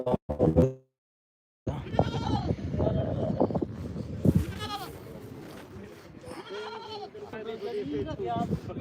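At the Wednesday goat market in Dhanaula, several goats give repeated quavering bleats, some close and loud, mixed with people talking nearby. A brief sound and near-silence come before the calls start.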